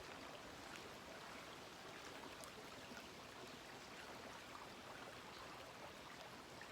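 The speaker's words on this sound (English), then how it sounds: "that sound of that little brook" A small brook flows through summer woods in Upper Michigan, giving a constant soft rushing hiss with no voices, steady and unbroken throughout.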